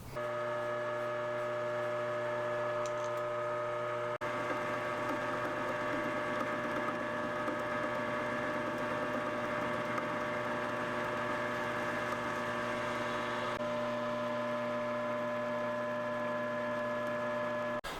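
A lathe machines a muzzle brake down to the diameter of a Savage 6.5 Creedmoor barrel, producing a steady, even motor hum and whine with a faint cutting rasp. The tone shifts slightly partway through and then drops back near the end.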